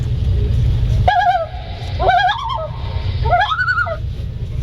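Common loon giving its wavering tremolo call in flight, three quavering bursts about a second apart over a steady low background rumble, fairly close and clear.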